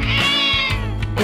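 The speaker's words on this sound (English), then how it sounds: "It's a cat." A cartoon cat meows twice in an animal-names learning game for children, each call clear, close and loud, with no talking over it.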